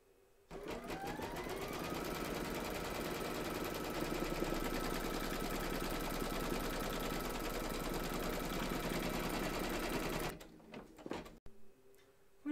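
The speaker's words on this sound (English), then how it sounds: "pop your hoop into your machine and stitch round number two to secure it" An embroidery machine stitches a securing round on an in-the-hoop reindeer towel topper, a loud, steady, fast needle chatter running about ten seconds before halting, followed by a few faint clicks.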